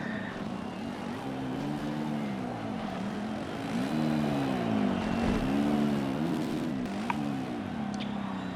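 A racing motorcycle engine on track during a race, heard at a steady moderate level, its pitch climbing and dropping repeatedly through gear changes as laps go by, with no talk.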